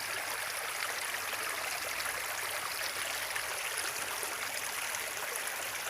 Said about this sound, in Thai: สียงลำธารนะครับไพเราะเพาะพิ้ง